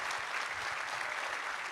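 Applause from the audience at a public meeting in Le Touquet-Paris-Plage, a short, steady burst of many hands clapping at moderate volume with no talk over it.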